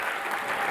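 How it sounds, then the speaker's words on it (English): A brief burst of dense audience applause at a creativity briefing, many hands clapping close and steady with no break. "Big round of applause."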